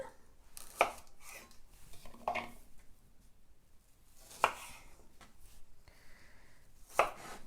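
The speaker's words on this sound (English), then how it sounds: "So these small onions, I'm just cutting into 4." A kitchen knife chops small onions into quarters on a board, giving four sharp, distinct cuts spread over several seconds against quiet room sound.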